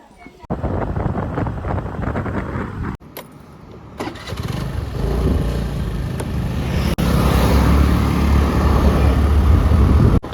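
A vehicle sets off on the road to Kolhapur, its engine rumble building and growing steadily louder through the second half, with heavy wind buffeting the microphone and a few sharp knocks along the way.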